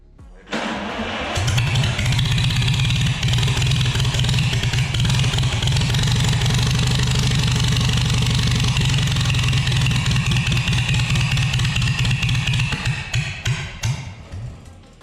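Long-idle 1949 Farmall H tractor engine runs at a steady, low idle for about eleven seconds, close and loud, then stumbles and sputters as it dies out.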